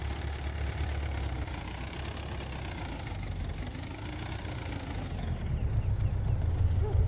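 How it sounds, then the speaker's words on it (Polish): An Ursus tractor engine idles in a steady, low, rough rumble with a slight rise and fall in pitch, growing a little heavier toward the end, with no voices over it. "Silnik widzisz, silnik pracuje"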